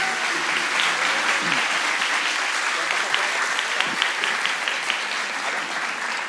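Loud applause fills a live stage show during a contest with three participants, a thick continuous clapping with scattered sharper claps and faint crowd voices mixed in.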